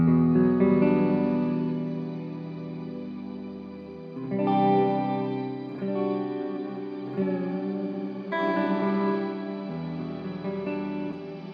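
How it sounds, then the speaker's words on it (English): A guitar played through a shimmer reverb pedal rings out in sustained chords with a bright, washy, echoing halo, each new strum swelling over the lingering tail, with no voices. "It's just a shimmer reverb."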